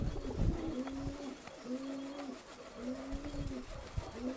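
Pigeons coo in repeated low, rolling phrases at a steady rhythm, fairly close, with faint background noise between calls.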